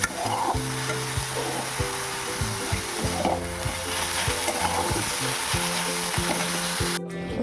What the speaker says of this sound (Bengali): এখানে হচ্ছে শাক ভাজা